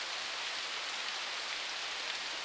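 Heavy pouring rain outside a garage, a dense, steady hiss of downpour that stays constant and fairly loud throughout with no let-up or other sounds.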